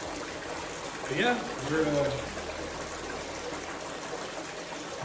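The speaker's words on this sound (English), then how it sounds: "Now we got a little more sound of the water and everything else going over this" Steady wash of water runs over gold panning gear used in a five-bucket gold test, a constant trickling stream with a voice speaking briefly over it.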